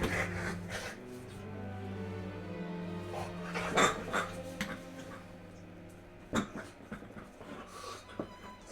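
A hyperactive dog whimpers and pants indoors, with soft whines, snuffles and a few sharp yips or barks scattered through, fairly close and moderately quiet, without talk.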